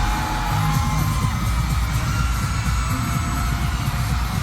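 Concert crowd at the Watson Playlist Concert 2024 screaming and cheering, a loud, continuous wall of shrieks and roaring voices with no letup.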